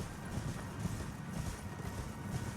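Faint, quick clip-clop of horse hooves galloping across ground in Elden Ring, a steady rapid rhythm at low volume.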